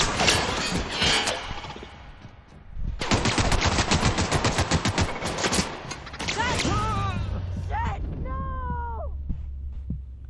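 Loud rattling bursts of automatic gunfire in the video game Peril on Gorgon, a long rapid volley in the middle, with someone talking before and after and a low hum near the end.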